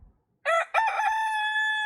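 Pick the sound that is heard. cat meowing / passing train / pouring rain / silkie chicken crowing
silkie chicken crowing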